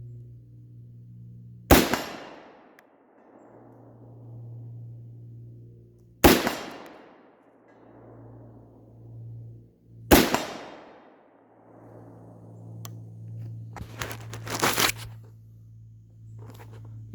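Three sharp, loud shots from a Ruger Mini 30 rifle during sighting in at a range, each with a ringing decay, spaced several seconds apart over a steady low hum, followed by a few quicker clattering bangs.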